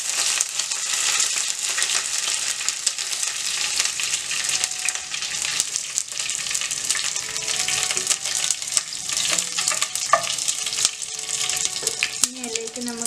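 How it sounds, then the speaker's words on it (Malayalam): Mustard seeds and curry leaves fry in hot oil for a Nadan chicken curry, giving a steady bright sizzle with scattered crackles and pops throughout. "ഇത്രയും 1 സ്പൂൺ കടുക് ഇടാം. കറിവേപ്പില ഇട്ട് കൊടുക്കാം."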